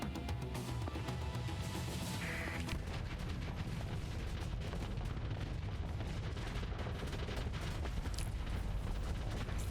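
Missile barrages in the space combat game Starsector, a dense, continuous roar of overlapping booms and blasts with no break, loud and close throughout.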